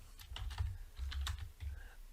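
Quick bursts of keystrokes on a computer keyboard while entering a title in Microsoft OneNote, in three short runs of fast, close clicking with brief pauses between them and no voices.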